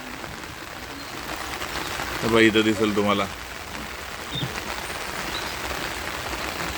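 Steady rain falling on a water village in Kerala, a continuous soft hiss throughout, with a person briefly talking over it partway through.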